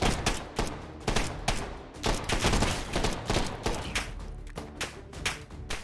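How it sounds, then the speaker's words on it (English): A belt-fed machine gun fires in the VR shooter game H3VR, with loud, close bursts of rapid automatic shots broken by brief pauses across several seconds and no talking. "it's a belt-fed weapon"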